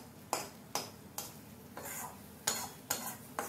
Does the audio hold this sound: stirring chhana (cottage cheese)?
yes